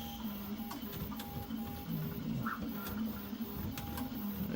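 Prusa XL multi-tool 3D printer with its extruder skipping on filament: faint, steady mechanical whirring with irregular small clicks and ticks, no talking.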